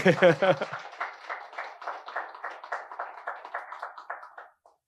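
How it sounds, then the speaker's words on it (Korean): A church congregation at a Sunday worship service claps hands in a brief scattered round that follows a short burst of talk, then fades and stops near the end. "박수 치려면 확실히 치든가"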